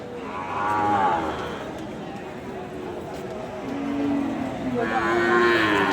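Sahiwal cattle low at a busy livestock market, with one long moo near the start and another building toward the end, set against a murmur of crowd noise and people talking nearby.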